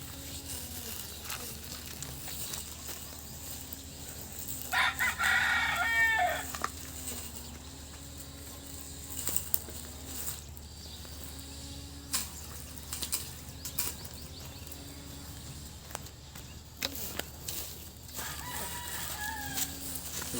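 Chickens cluck softly and steadily outdoors while a rooster crows loudly twice, once near the middle and again near the end, with light scratching and handling noises.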